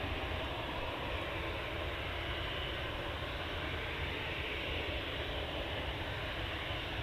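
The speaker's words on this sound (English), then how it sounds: "EasyJet now lining up." An EasyJet Airbus A320 lines up on the runway for a departure to Tenerife, its engines giving a steady, moderate broadband roar throughout, with no voices.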